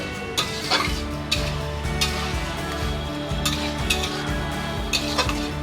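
Ilish fish head and taro greens being stirred in a pan with lemon juice as the water cooks off, a utensil scraping and clinking steadily against the metal in repeated strokes, close and alone.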